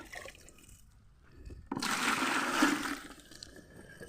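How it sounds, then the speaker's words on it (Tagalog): Water drawn from a well on a farm sloshes and pours: after a quiet stretch with faint knocks, a sudden rush of splashing water runs loudly for over a second and then fades to trickling. "So mauni akong kuhaan nag tubig"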